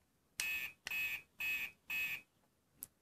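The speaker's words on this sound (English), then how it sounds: "That's the sound of an incoming emergency call to the fire station." An emergency-call alert from a toy fire-station messenger sounds as four loud harsh electronic buzzes in an even rhythm, followed by a short faint blip after a pause.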